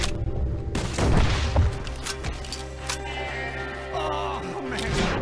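A long-distance rifle shot in Red Dead Redemption 2 booms loudly, with a second heavy report following and a rumbling echo trailing off; the shots come in close succession, loud and near.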